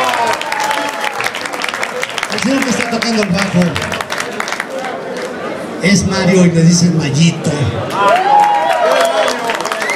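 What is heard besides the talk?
audience applause for the musicians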